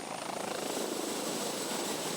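A helicopter flying over Calais makes a continuous, even rotor drone with a pulsing chop, steady in loudness throughout, with no voices.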